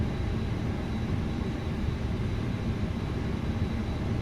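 Steady jet engine drone from an airliner taxiing in Microsoft Flight Simulator 2024, a constant loud broadband hum and whine with no change in level throughout.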